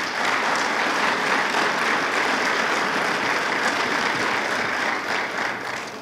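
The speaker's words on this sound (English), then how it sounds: "a round of applause for each of yourselves" Sustained applause from an audience at a university advisory board summit, dense steady clapping that holds for several seconds and tapers slightly at the end.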